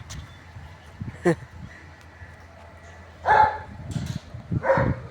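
A German Shepherd barks a few times at a distance, short scattered barks over quiet background noise.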